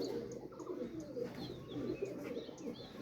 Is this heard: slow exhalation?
no